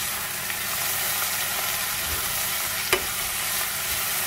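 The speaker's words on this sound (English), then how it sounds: "let these vegetables cook for about 2 to 3 minutes. Give it a whisk." Vegetables cooking over low gas in a pot for chicken noodle soup produce a steady broad sizzle, with one brief sharp knock of the utensil near the end, close and with no talking.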